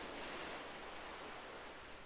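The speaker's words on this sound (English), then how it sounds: "The familiar sounds of waves crashing against rocks" Steady broadband rush of ocean surf breaking against rocks along a shoreline at sunset, a continuous wash of waves with no distinct individual crashes, heard alone without voices.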